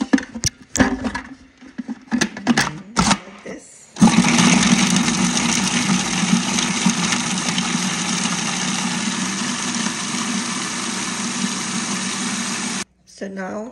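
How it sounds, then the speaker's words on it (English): Papaya being blended in an electric kitchen grinder: brief handling clatter first, then a loud, steady motor whir with a bright, gritty buzz that runs for about nine seconds before cutting off abruptly. "So I added this papaya into this grinder and now I'm just gonna"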